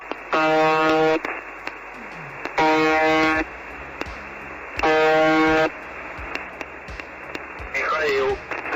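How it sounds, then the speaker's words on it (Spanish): A harsh monotone buzzing tone from the UVB-76 Russian shortwave station, known as the Buzzer, sounds in three long bursts, each about a second, separated by pauses with faint static and a brief voice-like warble at the end. "Se la conoce como el zumbador o buzzer, debido al sonido que produce."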